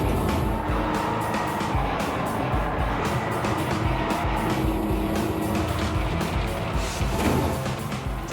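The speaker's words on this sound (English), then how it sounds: "I'm going to drive this M18 Hellcat as fast as possible around these flags and destroy the barrel obstacles." An M18 Hellcat tank destroyer, a vehicle capable of about 60 mph, drives fast around a flag course, smashing barrel obstacles. Its engine roars loud and steady throughout, with a rumbling, grinding drone and no voices.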